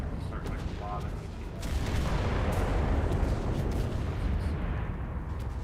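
Artillery fire in the video game Enlisted, a dense continuous rumble of distant booms and crackling gunfire that swells after a couple of seconds, with a few sharper cracks on top.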